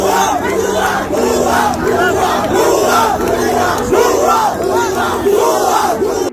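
A large crowd of student activists chants slogans in unison, loud and close, with rhythmic repeated shouted phrases filling the whole stretch and no pauses.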